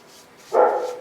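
A single dog bark rings out at mid distance, one short burst with a brief tail, standing alone in a quiet outdoor setting.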